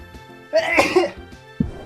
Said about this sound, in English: I don't want to sneeze.